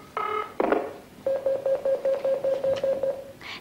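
A telephone number is tapped out on a push-button phone, a quick run of evenly spaced DTMF tones following a brief dial tone and a clunk, close and clear with no talking.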